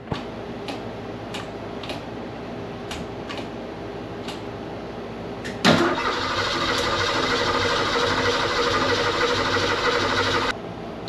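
A 1968 Ford Mustang engine ticks over slowly at first, then catches with a sharp burst near the middle and settles into a steady, loud idle for about five seconds before cutting back down.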